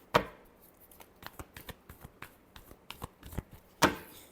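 Tarot cards shuffled by hand, a sharp riffle snap at the start followed by a run of soft irregular card taps and slides and another loud riffle near the end, close and clear without talk.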